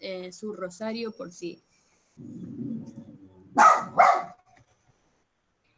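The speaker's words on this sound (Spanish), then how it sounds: "Disculpen mi perro que ladra cada tanto." A pet dog at home barks in a couple of sharp, loud bursts near the end, following a person speaking and a low muffled sound.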